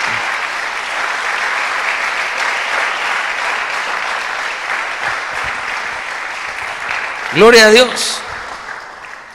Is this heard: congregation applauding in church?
yes